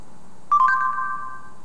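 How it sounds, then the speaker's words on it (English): A short synthetic ring tone from a phone call placed through a phone's voice assistant, a brief bright ascending chime that sounds once and trails off, loud and alone over quiet background. "let's start with just making a phone call to a contact."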